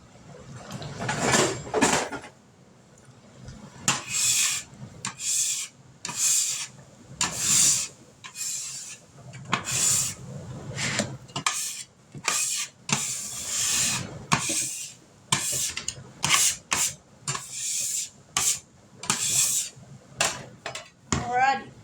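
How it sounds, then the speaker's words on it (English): A bench scraper is dragged across a kitchen work surface to clear up dough mess, giving repeated short rasping scrapes in an uneven rhythm, close and fairly loud with brief pauses between strokes. "And get my bench scraper."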